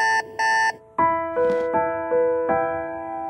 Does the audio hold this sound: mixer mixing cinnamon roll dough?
no